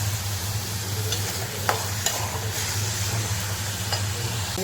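Onion with salt frying on high gas in a pan, a steady close sizzle broken by a few sharp clicks and scrapes of stirring, with a low hum underneath.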